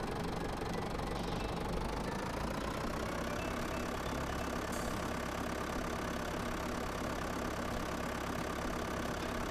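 A tractor engine idles in the farming video game Farming Simulator 2011, giving a steady, knocking, continuous drone that stays even and moderately loud for the whole stretch with no talk.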